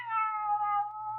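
A single drawn-out cat meow from an old radio drama, steady and close, with a faint low hum beneath it and no talking.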